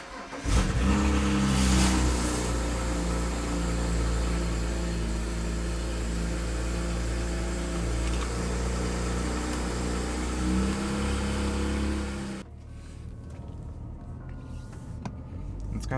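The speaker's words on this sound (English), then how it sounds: "I thought I'd bring you guys along for the cold start" A BMW 135i engine cold-starts and revs loudly, holding a steady throaty drone before dropping to a quieter idle near the end.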